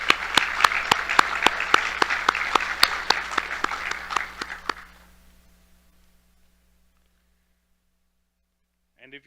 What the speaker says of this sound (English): Let's give a warm round of applause for our visiting royalty.